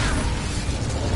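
A fiery Incendio spell is cast in Hogwarts Legacy, a short, dense burst of roaring crackle and low rumble that stays loud and steady across its brief length, with no voices over it.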